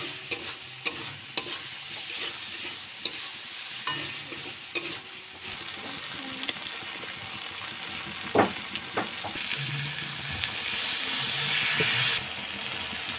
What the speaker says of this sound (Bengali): দিয়ে আবার নাড়াচাড়া করে একটু Kashmiri red chilli powder add করলাম, দিয়ে তাতে অল্প সামান্য পরিমাণে একটু জল দিলাম